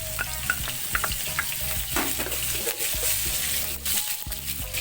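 Chopped garlic fries in a small amount of oil in a wok, giving a loud, close, continuous sizzle with occasional clinks and scrapes of a utensil.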